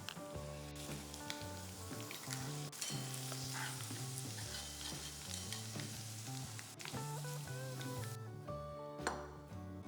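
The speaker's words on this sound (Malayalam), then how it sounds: "ഇതേപോലെ ബാക്കിയുള്ള ചിക്കൻ ഫ്രൈ ചെയ്തെടുക്കാം" Small chicken pieces fry in hot oil for a spicy roadside-style chicken fry, crackling sizzle running steadily throughout with music playing over it.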